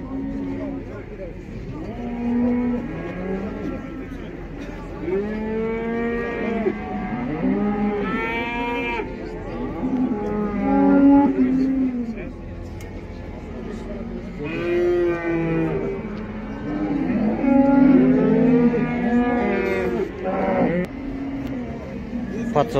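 Cattle at a livestock bazaar in Taraz keep bellowing, long moos from several animals overlapping near and far, with crowd noise and voices of people talking underneath.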